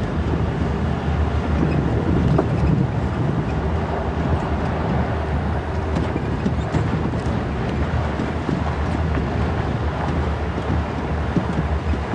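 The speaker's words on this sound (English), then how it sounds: "Look at the chilly wind." Chilly wind buffeting the microphone on an open safari drive at Djuma and Arathusa game reserves, a continuous broadband roar with a low vehicle rumble underneath and no talking.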